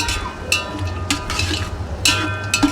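Onions being stirred in a pan while cooking for a Hyderabad-style chicken biryani, with a few close scraping strokes and light sizzling in short bursts.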